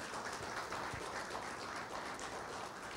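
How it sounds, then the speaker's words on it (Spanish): Congregation applauds during a Spanish-language church service, a steady dense clapping that fills the whole stretch without pause, with no voices standing out. "Dele otro aplauso al Señor en esta mañana."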